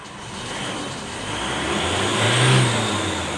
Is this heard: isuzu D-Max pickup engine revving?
yes